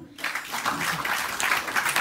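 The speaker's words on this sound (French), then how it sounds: "Bravo, applaudissez-vous." An audience applauds at a French-language talk, a dense burst of clapping starting abruptly and continuing steadily, with some voices mixed in.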